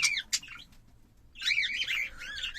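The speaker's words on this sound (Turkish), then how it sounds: "Yeni yeme düşmüş yavru sultanlar mevcut." High, busy chirping from newly weaned cockatiel chicks, a couple of sharp calls at first, a pause, then a continuous excited twittering.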